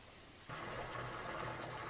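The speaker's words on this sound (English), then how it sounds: "just topping all the water back up now" After a brief lull, water starts gushing into a fibreglass koi pond with a steady rushing noise and a faint mechanical hum underneath, fairly quiet.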